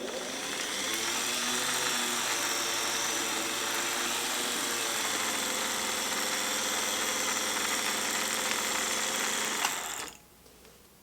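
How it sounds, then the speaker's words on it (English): A vintage sewing machine winds a bobbin with a steady, close, whirring motor hum and mechanical buzz that runs evenly for about ten seconds before stopping abruptly. "I would not say that that did a great job of winding the bobbin, but there's thread on it"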